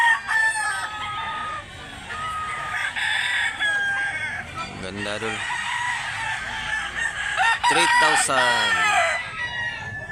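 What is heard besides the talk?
rooster crowing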